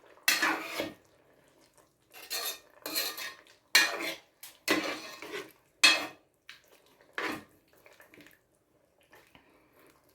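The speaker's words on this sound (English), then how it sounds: "I'm just going to stir that in." A spoon scrapes and clanks against a pot while bell peppers are stirred into a pork stew with added water, in irregular close bursts separated by short quiet gaps and no talking.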